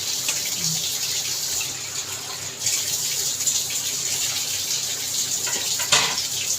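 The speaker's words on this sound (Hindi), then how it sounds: "अब हम इसके अंदर डाल देंगे थोड़ा सा पानी।" Water poured into a pressure cooker holding mutton pieces for karahi, a steady splashing gush that runs continuously at close range with no talk over it.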